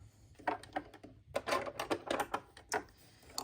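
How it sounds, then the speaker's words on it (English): A sewing machine stitching back ties in reverse to double the stitch, a quick run of sharp mechanical clicks and taps that pauses briefly and then picks up again at close range. "Almost stopping, reverse to double stitch"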